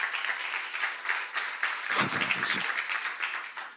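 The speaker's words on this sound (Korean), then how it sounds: "박수하세요." Church congregation at a Korean seminar applauding, a steady patter of many hands with a brief spoken phrase and some voices mixed in, tapering off at the end.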